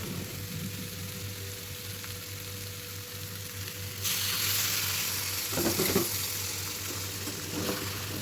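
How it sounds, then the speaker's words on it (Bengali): Chicken being sautéed without oil while splashes of water are added, a low continuous sizzle that grows louder and brighter midway as water hits the hot pan, with occasional stirring scrapes, close and without talk. "চিকেনটাকে আমি আবারও একটু একটু করে জল দিয়ে দিয়ে আবারও কষিয়ে নিচ্ছি"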